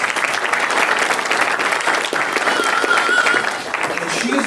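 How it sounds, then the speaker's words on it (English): Sustained applause from a crowd, loud and steady throughout, with dense clapping and faint cheering mixed in. "Give a big round of applause for Sarah."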